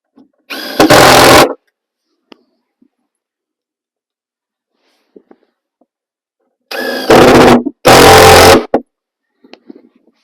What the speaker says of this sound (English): now I'm going to take these screws and screw it together